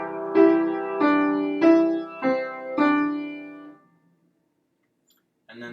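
Five evenly spaced left-hand piano notes from a riff ring out one after another, each decaying before the next, followed by silence and a brief final sound.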